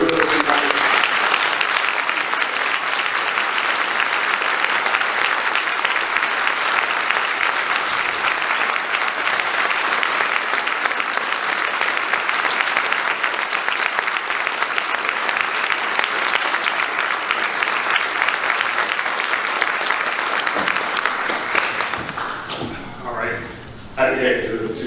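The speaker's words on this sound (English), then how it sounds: "And please, give her a round of applause." An audience at the 2018 Arlington Distinguished Service Award ceremony gives a long, dense round of applause that holds steady and loud for over twenty seconds before thinning out near the end.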